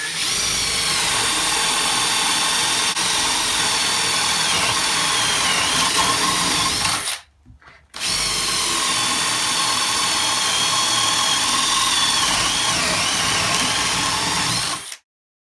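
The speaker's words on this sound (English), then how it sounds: "We're also going to put a 5/8 inch spade bit in each one of the drills," Cordless drill with a 5/8 inch spade bit boring holes in cherry wood, a loud, sustained high whine running for about seven seconds, a brief pause, then another long continuous run before stopping.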